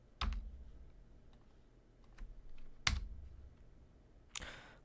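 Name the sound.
pressing the ESC key on a computer keyboard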